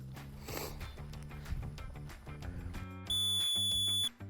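After low background rumble, a shrill dog training whistle sounds as a quick run of short, closely spaced beeps, loud and close.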